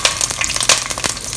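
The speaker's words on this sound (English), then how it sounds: "So we are going to gently put the prawns in. Be careful that it might splatter a little bit." Prawns frying in hot oil for Thai glass noodles, a close, steady crackling sizzle with sharp popping spatters throughout, heard alone.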